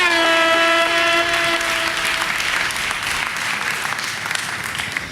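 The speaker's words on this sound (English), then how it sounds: "So let's give our judges a round of applause." An audience at an Atlanta Hawks event gives the judges a loud, sustained round of applause. It begins over a fading sustained musical tone and thins slightly toward the end.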